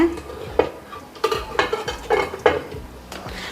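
Pots and metal utensils clink and scrape while sweet pongal of rice, lentils and jaggery cooks in a home kitchen, with irregular sharp clatters and stirring knocks at close range.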